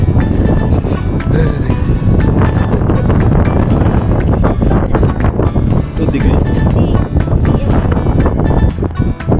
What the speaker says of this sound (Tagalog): Dinig niya siguro yung hangin.